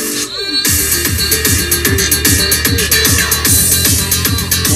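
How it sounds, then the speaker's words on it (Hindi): An Audison premium audio upgrade in a heavily modified 2023 Wagon R Z Sport pumps loud music with hard, evenly spaced bass punches and bright treble on top. "ये वीडियो में ही आप लोग सुन सकते हैं कि एक एक पंच जो जो बेस अपने को इसके अंदर मिल रहा है"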